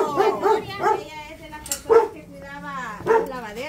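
A small dog yips and barks in short repeated bursts close by, mixed with someone speaking to it in a friendly voice.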